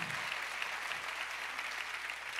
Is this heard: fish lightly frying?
no